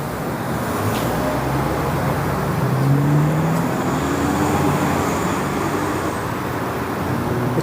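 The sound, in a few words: truck with massive tires driving past on street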